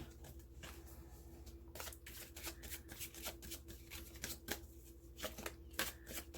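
Crystal reading cards being shuffled by hand nearby, a quiet run of rapid riffling and flicking bursts that repeat in uneven rhythm over a faint steady hum, with no talking.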